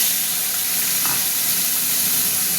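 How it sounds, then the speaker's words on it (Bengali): Steady, loud sizzling of prawns frying in hot oil, a dense continuous hiss with faint crackles throughout. "এটা একটু ভাজা ভাজা হোক চিংড়ি মাছটা।"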